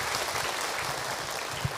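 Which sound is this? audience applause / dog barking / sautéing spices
audience applause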